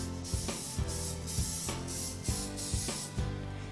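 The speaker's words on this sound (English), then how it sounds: "so I'm gonna spray that, get it ready for the batter. I use the butter spray." Butter-flavored cooking spray hisses from an aerosol can onto a Pyrex glass baking dish in a series of short bursts, about seven quick sprays in a row, close and clear with no talking.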